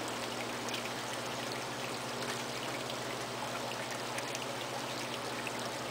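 Water trickles and drips onto the top of a large clay pot turning slowly on a potter's wheel. The wetting is a steady, close wash over the low, constant hum of the wheel.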